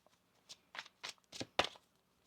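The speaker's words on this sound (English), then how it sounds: "One more shuffle." Several quick papery riffles of tarot cards being shuffled, five or six short bursts in a row, close and fairly quiet, with no talking.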